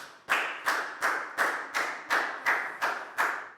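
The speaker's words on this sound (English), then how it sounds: "High five and a big round of applause for Nadia, please, guys." Classroom applause comes as about nine sharp hand claps in a steady, evenly spaced rhythm, close and clear, with no talking.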